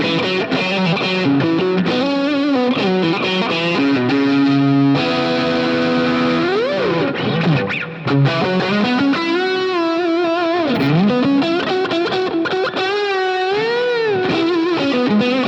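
Distorted electric guitar on a Friedman amp model in an Axe-Fx III with the pickup selector in position 4, playing a smooth, non-harsh lead line with sustained bends and chorus-like shimmer, loud and continuous with no talking.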